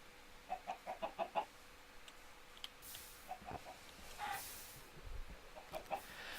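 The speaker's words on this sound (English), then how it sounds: "I think we're about to lose a couple chickens." Minecraft chickens clucking in a multiplayer world, a quick run of short clucks near the start followed by scattered softer clucks over quiet game ambience.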